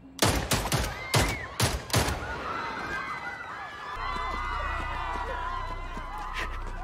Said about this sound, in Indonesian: dia menembak Yaksa.